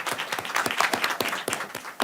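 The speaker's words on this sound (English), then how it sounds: "Round of applause." Conference audience applauding, a brief burst of many hands clapping at moderate distance, steady and fairly soft, lasting about two seconds.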